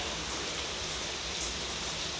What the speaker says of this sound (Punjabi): ਮੀਂਹ ਤਾਂ ਅੱਜ ਹਟਣ ਦਾ ਨਾਂ ਹੀ ਨਹੀਂ ਲੈਂਦਾ ਜੀ